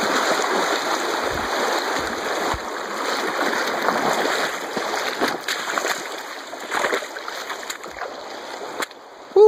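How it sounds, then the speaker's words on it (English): Someone wading across the cold Lamar River, with continuous rushing and sloshing water close by and splashes as the legs push through the current, strongest at the start and easing later. "This is me fording the Lamar River."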